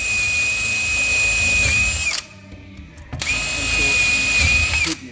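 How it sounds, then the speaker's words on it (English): A power drill bores a hole through a kitchen door for a handle, a close whining run of about two seconds, a brief pause, then a second sustained burst. "all we're going to do is just drill a hole"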